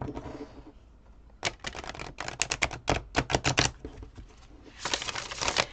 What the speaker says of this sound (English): I don't remember how this deck shuffles